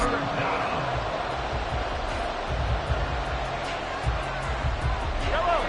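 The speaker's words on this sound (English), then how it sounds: "this crowd doing their best to make a lot of racket" A large stadium crowd in Madden 24 roars in a steady, dense wash of noise, with occasional thuds and a voice talking over it.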